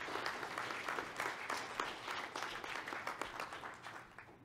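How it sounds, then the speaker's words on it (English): Congregation clapping during a church service, a steady patter of many hands at moderate distance, fading slightly toward the end. "Give him a clap."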